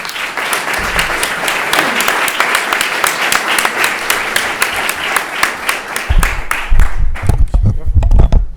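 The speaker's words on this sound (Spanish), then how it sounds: "Venga, un aplauso." Sustained audience applause fills a public political event in Arahal, steady dense clapping that swells near the end with some voices and crowd murmur mixed in.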